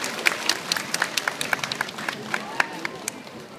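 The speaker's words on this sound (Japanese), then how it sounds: "大きな拍手をお願いします。" Audience applause welcoming the ASIMO humanoid robot at a science museum show, a dense wash of many hands clapping with sharp individual claps standing out, steady and moderately loud throughout.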